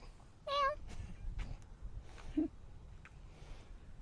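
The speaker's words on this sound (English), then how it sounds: "Oh, and now there's a cat." A cat meows once outdoors near a flowering Pride of Barbados shrub, a short rising-and-falling call at moderate distance over a faint background hum, followed by a few soft, indistinct sounds.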